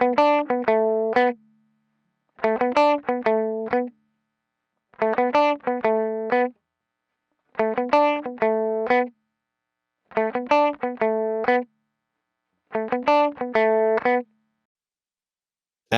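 A short, bright plucked musical phrase repeats six times, each burst separated by silence, processed through a Goodhertz Tupe tape plugin in limit mode, which gives it a gritty, saturated edge.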